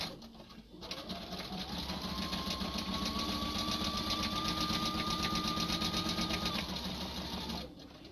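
A sewing machine runs steadily as a wool quilt is stitched, a smooth continuous mechanical whir with a fast rhythmic tick, starting up after a brief pause and running about seven seconds before stopping.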